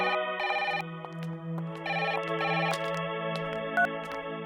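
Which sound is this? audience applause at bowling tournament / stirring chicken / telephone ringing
telephone ringing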